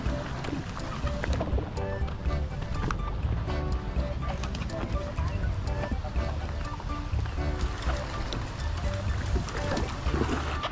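A stand-up paddle board slides into the flowing water of the Ping River at Mae Taeng, Chiang Mai, with continuous splashing and rushing water close by and people talking over it.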